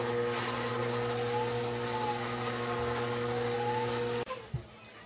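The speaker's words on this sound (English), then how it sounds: "we're going to go ahead and start mixing it in the stand mixer" A stand mixer whirs steadily as it beats grain-free coconut flour brownie batter, a constant motor hum up close that cuts off abruptly near the end.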